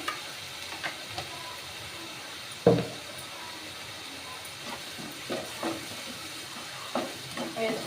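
Ingredients for a cashew paneer curry fry in a small amount of oil, giving a soft continuous sizzle broken by occasional taps and scrapes of stirring.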